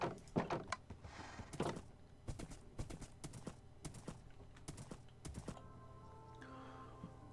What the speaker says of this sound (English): So I'm going to grab a horse and we'll be out in the desert here in a moment